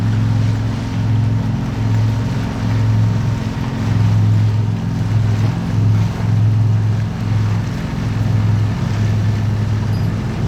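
A boat motors through a dam lock on the St. Lawrence River, its steady low engine drone running continuously with a pulsing hum, alongside wind and water noise, loud and close with no voices.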